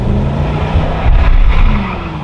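Car in the Gambler E38 build does a burnout: a loud, steady tire skid and squeal over a deep revving engine, close and continuous, swelling briefly midway.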